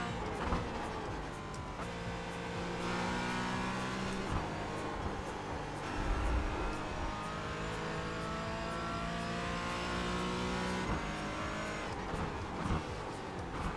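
Porsche GT4 race car engine in a racing sim, revving up and down through gear changes with rising and falling tones, close and steady, tire noise mixed in, no talking.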